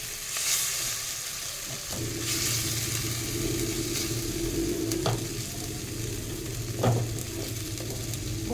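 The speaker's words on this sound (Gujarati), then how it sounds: "અને આપણે બરાબર પેસ્ટને મિક્સ કરી લઈશું." A spice paste with coriander-cumin powder and turmeric is stirred and mixed in a hot pan, giving a steady close sizzle and scraping, with a few sharp utensil knocks.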